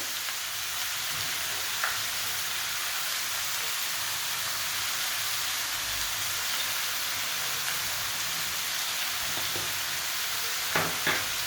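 Green peas and salt frying in a pan for vegetable pulao, a soft continuous sizzle with occasional light clicks of stirring, no voices.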